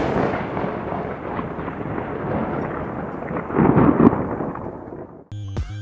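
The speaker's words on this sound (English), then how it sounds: "Let the thunder roll." Thunder in the retro video game Iron Meat: a long, loud rumbling roll with crackling swells, ending in a brief electronic game tone.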